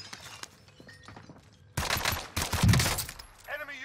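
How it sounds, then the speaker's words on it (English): Heavy automatic gunfire erupts in the Warzone video game, starting after a quieter stretch of footsteps and faint shots, then rolling in loud, dense bursts with a brief break before more firing. "Taking heavy fire."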